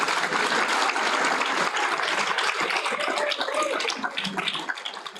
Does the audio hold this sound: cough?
no